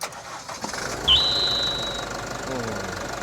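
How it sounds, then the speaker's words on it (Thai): A 1.9 Blue Power car engine with automatic transmission cranks and fires at about one second, then settles into a steady idle under a high whine, heard up close in an engine bay. "เปิดขึ้นเดี๋ยวผมสตาร์ทให้ดู"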